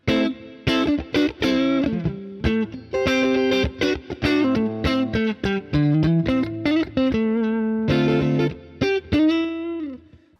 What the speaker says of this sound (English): That's my clean sound.